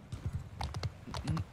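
Horse hooves clop in Mount & Blade II Bannerlord, a quick uneven run of close, fairly loud hoofbeats in short bursts across a second and a half.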